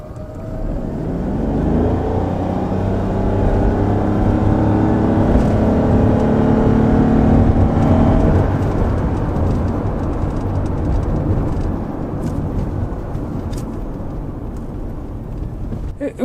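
A 2025 Toyota Yaris Cross hybrid at full throttle, its engine droning loud and steady as the revs climb over several seconds and then settle into a sustained roar with road noise.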